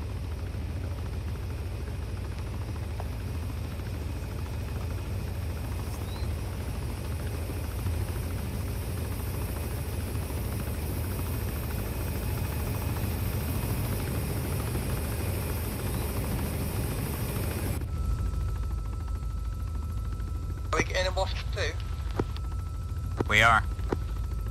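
A military helicopter in Arma 3 gives a steady low rotor and engine drone throughout, fairly close, under intermittent radio chatter and talk, with the drone cutting off near the end.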